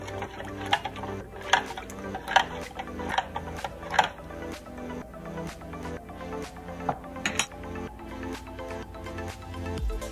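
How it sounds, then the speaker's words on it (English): A spoon stirs lime jelly mix in a measuring cup, clinking against the side in a steady rhythm of light ticks over a faint tonal background. "And stir that again."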